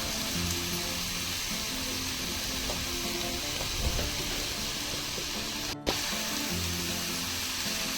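Onion, salt and masala are stirred into a wild vegetable in a hot pan, giving a steady close sizzle with faint scraping from the stirring and one brief sharp break near the end.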